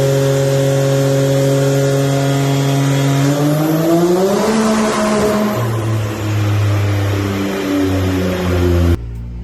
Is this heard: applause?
no